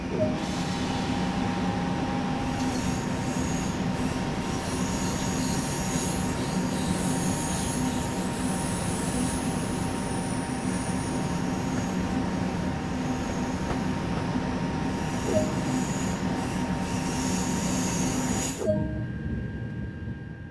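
TGV Duplex high-speed train running on the LGV Méditerranée line in Train Sim World 2, a steady, loud rolling rumble with faint wheel squeal and tonal hum, continuous for most of the clip before cutting off near the end.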